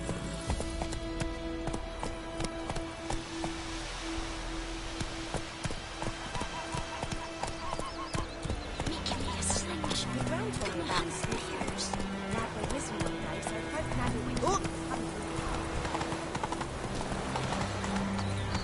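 A horse trots with a rhythmic clip-clop of hooves, steady and fairly close, with voices talking and other sounds mixed over it.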